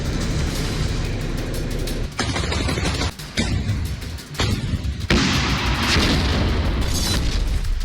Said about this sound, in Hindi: खार्किव में इतनी ज्यादा भीषण बमबारी हुई है